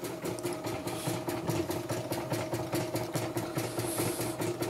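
A portable computerized embroidery machine runs steadily at a service shop, giving a continuous, even mechanical whir with a fast repetitive stitching rhythm, close and alone.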